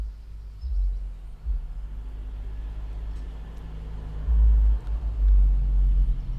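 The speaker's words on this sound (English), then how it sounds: "Here comes the noise of a diesel." A diesel vehicle draws closer outdoors, its low engine rumble swelling and growing louder toward the end as it nears.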